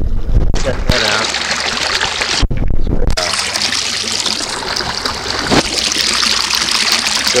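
Creek water trickles and rushes steadily over a spot in the stream, continuous and close, broken up early on by bumps and handling noises.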